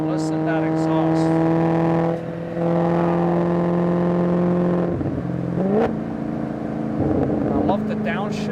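A 2014 Maserati GranTurismo's exhaust note while driving, a loud steady engine drone with revs rising and dropping through gear changes, someone talking over it.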